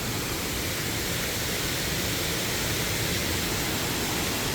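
Twin waterfalls in Cherokee, North Carolina pour in a constant, dense roar, a steady wash of falling water heard from a viewpoint with no breaks.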